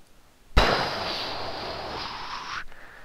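Fusion explosion effect from a Dragon Ball video game: a sudden loud blast followed by a sustained bright roaring rush for about two seconds that cuts off, leaving a quieter tail.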